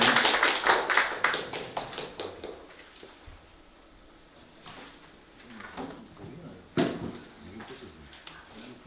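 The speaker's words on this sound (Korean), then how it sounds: "큰 박수로 환영을 부탁드리겠습니다." An audience at an academic lecture on Gimhae righteous-army history claps to welcome a professor, brisk scattered applause that thins out after about three seconds, leaving quiet room noise and one sharp knock.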